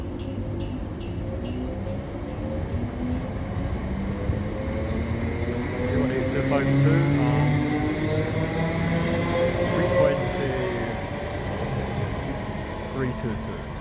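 A six-carriage ScotRail service to Airdrie creeps slowly into a station at Queen Street with a steady low rumble, squealing wheels and a rising hum as it draws near, while a person talks quietly over it.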